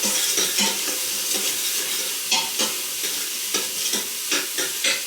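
Vegetables for beetroot risotto being sautéed in a stainless steel Instant Pot pro crisp, a close, steady sizzle broken by repeated stirring scrapes of a spoon against the pot.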